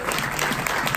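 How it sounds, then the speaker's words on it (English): A crowd at a book presentation applauds warmly, dense clapping filling the whole moment at a steady, fairly loud level. "Let's give them a round of applause."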